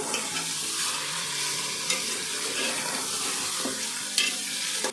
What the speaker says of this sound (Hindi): और अब अच्छी तरह मटन को फ्राई कर लेंगे